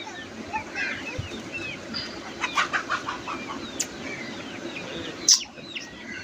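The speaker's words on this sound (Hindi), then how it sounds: "आ मेरा मरीठी मुर्गा" An aseel rooster clucks in short, irregular bursts close by, among scattered chirps from other birds, a broad hiss of background noise and a sharp call near the end.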